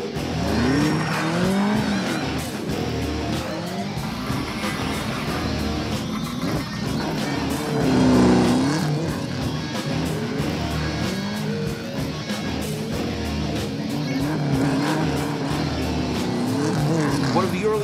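Cars race on a frozen mirror-ice track, engines revving and whining continuously with tyres skidding and squealing across the ice, loud and close throughout, with a voice talking over the noise.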